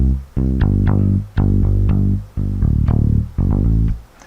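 Short, deep bass notes in a repeating pattern, several low plucked tones with brief gaps between them, clear and close.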